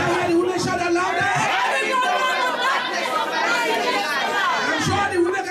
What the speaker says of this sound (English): Can I hear the women shout out louder?